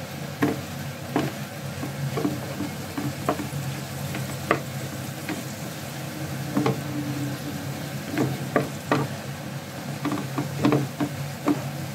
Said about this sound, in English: Right, just stir that up a bit.